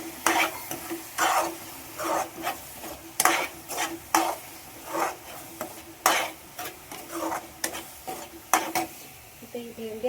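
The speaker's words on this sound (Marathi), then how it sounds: "इथे ही भेंडी आपली थोडी खाली जाऊ द्या, तिला आपण हलवून घेऊया मस्तपैकी." A spoon repeatedly scrapes and stirs okra frying in a pan with onion-garlic masala, salt and turmeric, giving rhythmic close strokes over a steady sizzle.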